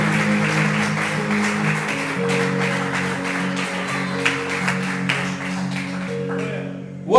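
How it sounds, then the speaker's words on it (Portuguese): Church congregation clapping for the Lord, a fairly loud stream of rhythmic claps over sustained tonal organ or keyboard music, fading near the end. "Aplauda ao Senhor."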